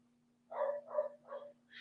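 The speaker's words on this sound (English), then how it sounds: "Because when Paddington starts barking" A few muffled dog barks in quick succession, somewhat distant and soft, over a low steady hum.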